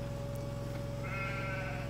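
Sheep bleating in the farming video game Farming Simulator 2013, a steady bleat over a constant droning game background, moderately loud and continuous through the short stretch, with no talk.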